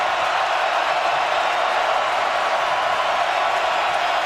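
A dense, steady roar rises from the stadium crowd at a 2011 college football game, Alabama at Florida, loud and unbroken with no distinct voices standing out.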